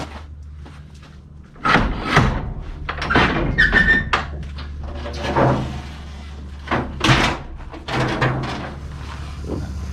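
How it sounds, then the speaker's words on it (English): Large greenhouse door being opened, heavy squeaking and scraping in several bursts with rubbing and creaking over a low steady hum, close and fairly loud. "Open that big giant door of yours."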